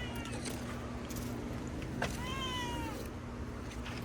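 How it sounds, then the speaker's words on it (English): A cat meows once outdoors in a mango-growing garden in Silicon Valley, a clear rising-falling call near the middle, over a steady low background hum with no talking. "Oh, there's a cat that's been coming over to my property."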